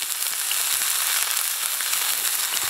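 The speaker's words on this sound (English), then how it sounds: "Got a good sizzle." A frozen ribeye steak sizzles in a hot cast iron pan over a wood stove, a steady, close, dense hiss with scattered crackles and spits running continuously throughout.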